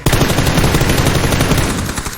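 Dense, continuous M4 assault rifle fire from PUBG roars without pause, loud and close, with a crisp, punchy synthetic quality.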